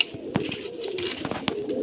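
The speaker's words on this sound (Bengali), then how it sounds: "এই দেখো সব পায়রা উঠছে এইখানে। তবে তোমাকে পায়রাগুলো দেখাই।" Pigeons coo softly in a pigeon house, with low murmuring calls running steadily throughout and a few sharp flutters or clicks on top, at close range with no talk.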